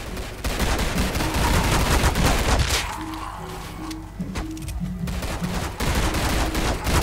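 M1 carbine gunfire from the video game Zombie Stories comes as dense, rapid shots and crackle. The firing eases briefly midway and then resumes over faint tonal game sounds.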